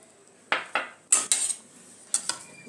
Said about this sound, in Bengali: আমি দইটা মিশিয়ে নেব সুজির মধ্যে